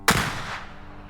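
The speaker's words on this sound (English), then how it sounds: "A gunshot rings out." A single sharp, loud gunshot crack rings out during a Call of Cthulhu game session, then trails off in a brief decaying echo with no talking.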